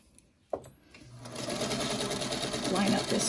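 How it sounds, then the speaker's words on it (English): A sewing machine stitches quilt fabric right off the edge, starting after a click and settling into a steady, close, rapid mechanical whir that builds and holds, with a voice talking over it. "I'm just going to continue over sewing about an inch and then sewing right off the edge."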